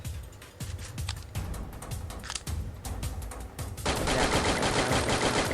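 Gunfire in the Free Fire battle royale game: rapid automatic bursts and single shots crackle loudly, then give way to a denser, sustained volley near the end, with almost no voice present.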